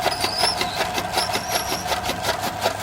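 A fodder cutting machine runs at a village farm, a steady mechanical whirring with a fast, regular clatter, fairly close and continuous with no talking.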